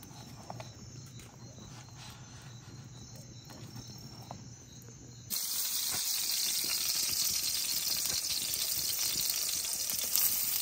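Onion frying in a pan on a farm kitchen stove, a steady sizzle that suddenly jumps much louder and brighter halfway through, with crickets chirping in the background.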